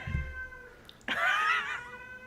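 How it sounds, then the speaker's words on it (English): A cat carrying a toy in its mouth up the stairs gives a loud, drawn-out, muffled yowling meow near the end, following a brief low thump and quiet. "he's meowing with it in his mouth"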